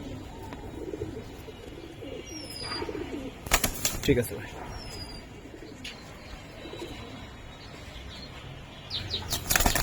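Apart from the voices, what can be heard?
army pigeons cooing and flapping wings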